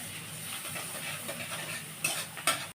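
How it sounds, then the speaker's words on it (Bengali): Onions frying in a pan into crispy beresta for malai egg korma, a soft steady sizzle and hiss close by, punctuated near the end by two sharp clinks of a utensil, without voices. "আচ্ছা, পেঁয়াজ বেরেস্তাটা করছি।"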